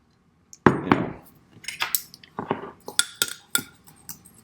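A spoon clinks repeatedly against a glass container while stirring an olive oil mixture for lamb massage oil; sharp, irregular clinks and scrapes, fairly close, with no talk.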